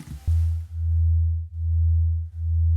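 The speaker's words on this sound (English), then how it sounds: "it'll be kind of like a pulsing sine wave" A pure synth tone made of two sine waves set two semitones apart beats against itself, swelling and dipping in a slow regular pulse about three times over, loud and clean with nothing else behind it.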